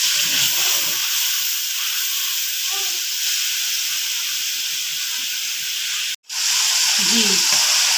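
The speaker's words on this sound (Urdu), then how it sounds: "اب تھوڑی دیر ہم اس کو فرائی کریں گے۔" Garlic paste fries in a pan for dhaba-style daal mash, giving a steady loud hissing sizzle that drops out for a moment near the end and then returns.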